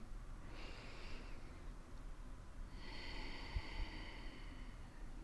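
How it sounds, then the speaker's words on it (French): A slow, audible breath out during a gentle yoga exercise for tense shoulders, a soft airy exhale followed by a second longer breath, close and alone in a quiet room. "On peut expirer par la bouche ou par le nez."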